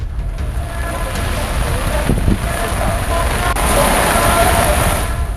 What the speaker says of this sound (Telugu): కొండ మీద ఎడతెరిపి లేకుండా వాన పడుతోంది